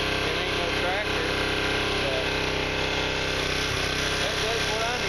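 A 17-inch Husqvarna tiller with a 150cc engine runs steadily, a continuous close, high-pitched buzzing drone without pause.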